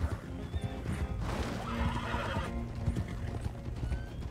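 Horses in the video game Red Dead Redemption 2 give a loud whinny while hooves clip-clop in a steady rhythm nearby, with no speech.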